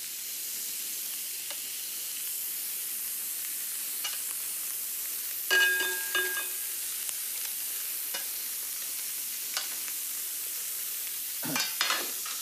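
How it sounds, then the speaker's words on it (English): Squid sizzles steadily on a very hot griddle pan with a continuous bright crackling hiss. Occasional louder spits and utensil scrapes stir through it, and there is no talking. "a frying pan, super hot before you put the squid on."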